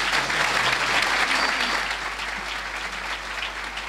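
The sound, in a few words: applause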